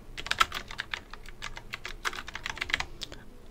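Quick, uneven keystrokes on a computer keyboard as a short answer is typed in, close and fairly quiet with no voices.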